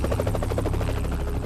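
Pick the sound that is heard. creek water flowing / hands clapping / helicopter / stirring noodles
helicopter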